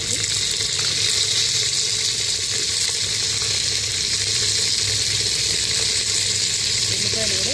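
Cut okra pieces sizzle steadily in hot oil with curry leaves and dried red chillies, a loud, continuous frying hiss that stays even from start to finish.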